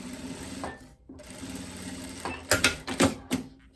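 A home sewing machine stitches a seam joining two pieces of viscose dress fabric, a close whirring run that stops briefly, then resumes in several short, sharper bursts.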